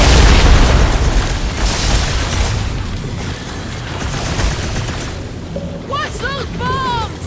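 Heavy bomb explosions in Marvel's Guardians of the Galaxy, a loud booming blast at the start trailing into rumbling debris, followed by a short voice under the fading roar.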